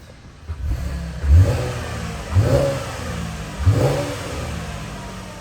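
A 2015 Chevrolet Camaro 2LT RS engine idles with a deep rumble, then revs sharply three times in a steady rhythm, close and loud.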